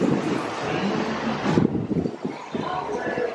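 Wind buffets the microphone outdoors in Maui, a loud, steady rumbling roar that briefly dips and gusts again, with voices partly heard under it.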